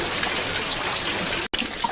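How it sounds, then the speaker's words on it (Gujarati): Heavy rain drums on a home's sheet-metal roof, a dense steady patter with scattered louder drops, broken by one very brief dropout, and no one speaks. "વરસાદ ઘણો છે"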